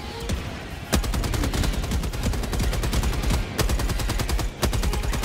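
Dense, continuous automatic gunfire from the video game Helldivers 2, with rapid rhythmic bursts and a few heavier booming shots layered throughout, loud and sustained with no talking.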